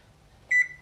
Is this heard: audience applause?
no